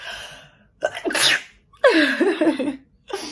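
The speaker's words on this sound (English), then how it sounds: "I'm going to sneeze." A single loud sneeze close to the microphone, preceded by a sharp breath in, with a brief exhale afterward.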